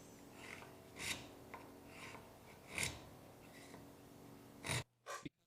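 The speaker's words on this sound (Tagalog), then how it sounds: "gagamit ako ng homemade at Black Dragon Forge na brooch para ukitin ang slot" A homemade broach rasps back and forth through the tang slot of a handle for a Damascus chef's knife: several slow, scraping strokes with pauses between them, fairly close, ending in two short louder scrapes.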